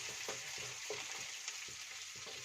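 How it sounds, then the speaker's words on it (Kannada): Onion and tomato frying in a pan give a soft, constant sizzle with quiet rhythmic scraping as the mixture is stirred every fraction of a second, close and low in level. "ಈರುಳ್ಳಿ, ಟೊಮೊಟೊ ಇದನ್ನೆಲ್ಲ ಒಂದು ಸ್ವಲ್ಪ ಕೆಂಪಗಾಗಂಗೆ ಹುರಿಬೇಕ್ರಿ."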